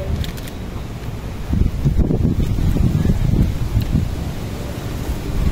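Wind blowing outdoors at a picnic, a steady gusty rush buffeting the microphone with rumbling surges and no talking.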